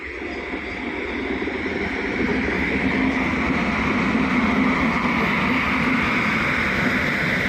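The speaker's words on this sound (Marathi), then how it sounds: "ही आहे रोरो म्हणजे मित्रो जे ट्रक वगैरे जातात ना ती ही ट्रेन आहे" A RoRo freight train carrying loaded trucks rumbles past at a Konkan Railway station, a loud steady roar with rail clatter that holds for several seconds without voices.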